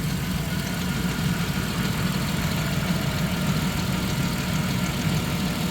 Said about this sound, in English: and there goes the compressor.